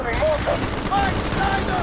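Gunfire in the Call of Duty: Black Ops game fills the whole stretch as steady automatic bursts, with shouted voices from soldiers on top.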